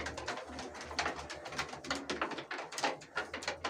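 Tumbler pigeons, Kayseri flight birds, fluttering and calling near and loud in a steady busy stream of wingbeats and coos, with a low hum underneath.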